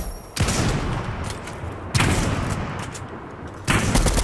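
Three bursts of gunfire in the Fortnite battle royale video game, each a sharp broadband crack with a rolling tail, spaced roughly every second and a half, loud and close with no talking.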